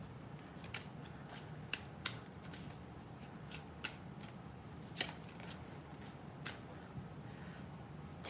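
Tarot cards being shuffled, soft papery riffles and sharp flicks scattered irregularly over a faint background.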